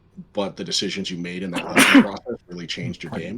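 A single sharp sneeze bursts out in the middle of ongoing conversational speech during a God of War 3 gaming stream, brief and close, with talking resuming right after.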